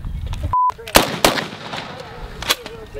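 An FG-42 rifle fires a few sharp, loud reports with echoing tails that then stop as it jams, with talk heard in between the shots.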